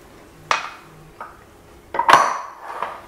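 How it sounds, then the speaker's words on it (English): A mixture with added salt is stirred in a pot, and a metal utensil clinks and scrapes against the side in a few separate knocks, with a louder cluster of clatter near the end. "Stir that together a little bit more."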